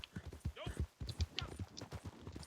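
Horse hooves in the video game Red Dead clop in an uneven run of close, soft thuds, joined by a short whinny-like rising tone, while a person talks over them.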